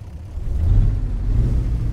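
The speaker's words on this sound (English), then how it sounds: "Let's fire it up, shall we? I love that starting sound." Deep Magirus Deutz 290 truck engine in American Truck Simulator turning over and settling into a low, throaty idle, close and fairly loud with no voices.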